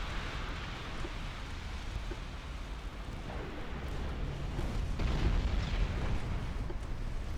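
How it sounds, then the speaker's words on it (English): Naval battle in the game Ultimate Admiral Dreadnoughts, a dense roar of rumbling blasts and noise as a ship sinks after torpedo explosions, growing louder toward the end with no voices. "Sealer has sunk due to extensive fire caused by torpedo explosions."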